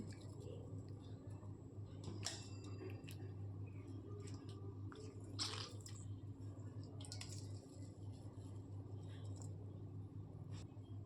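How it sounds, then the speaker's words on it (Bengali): Soaked soya chunks squeezed by hand to press out cold water, giving soft wet squishes and drips over a steady low kitchen hum, fairly quiet and close. "এই ঠান্ডা জল থেকে আমি ভালো করে জলটাকে চিপে আমি একটা আলাদা পাত্রে তুলে নিচ্ছি"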